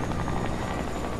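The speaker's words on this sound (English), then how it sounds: "Yo, helicopter! Helicopter!" A Fortnite helicopter's rotor chop throbs steadily at moderate volume, a brief continuous whirring pulse heard alone with no voices over it.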